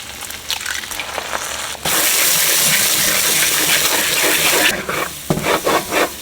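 Four eggs hit a hot pan for chicken and shrimp fried rice, a loud broad sizzle bursting up after a quieter start and running steadily before easing into scattered crackles.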